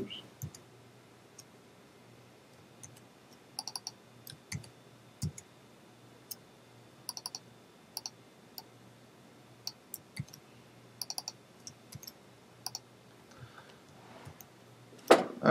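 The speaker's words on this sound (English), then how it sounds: "I'm typing a lot here" Sparse, scattered keystroke clicks on a computer keyboard during programming, with light taps spread irregularly over a quiet room background and a louder clatter at the end.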